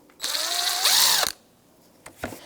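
Ratchet with a 12mm socket turning a tensioner bolt on a 2004-2009 Subaru Outback, giving a close, loud burst of rapid clicking about a second long, followed by a couple of faint knocks.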